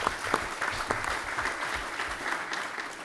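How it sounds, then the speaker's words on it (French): Applause from the audience at a conference panel on fintech and the financial sector, steady and moderately loud clapping that carries through the whole short stretch with no speech over it. "Merci de l'applaudir."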